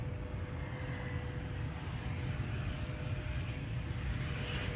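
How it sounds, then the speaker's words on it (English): An Embraer Phenom executive jet inbound to Cleveland on a foggy evening, a steady broad engine roar holding constant and fairly loud throughout, no voices. "Got a Embraer Phenon inbound."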